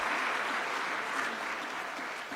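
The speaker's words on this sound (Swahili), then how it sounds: "Tuongeze tena makofi kwa msajili wa hazina." An audience applauds a treasury registrar at a formal state dividend ceremony with the President, dense steady clapping from many hands filling the hall throughout and fading slightly at the end.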